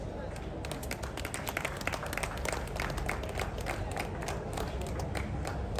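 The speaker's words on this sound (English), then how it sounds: "Please don't stop clapping, keep clapping" Continuous audience clapping at a gathering marking thirty years of the OPC, a dense steady patter of many hands under a busy, reverberant crowd din with voices mixed in throughout.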